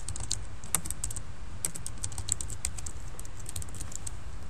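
Keys on a computer keyboard are tapped in quick, irregular clusters with short pauses, close and crisp over a faint steady hum.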